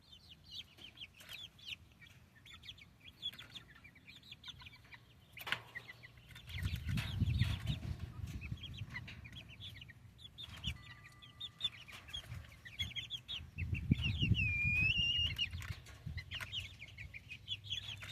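Backyard chickens cluck and chirp on and off, with short soft calls and a few higher tweets, sometimes with bursts of wing flapping, fairly faint and without speech.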